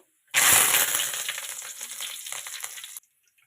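Curry leaves drop into hot oil with mustard seeds for a village-style chicken fry tempering, bursting into a loud crackling sizzle that slowly settles to a steady fry before cutting off.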